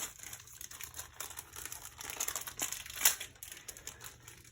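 A new plastic pack of hot glue sticks being opened nearby, with a steady run of soft crinkling and rustling and a brief sharper crackle partway through, no talking.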